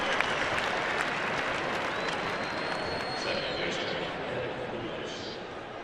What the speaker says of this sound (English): And a round of applause at Chase Field for the Diamondbacks lefty.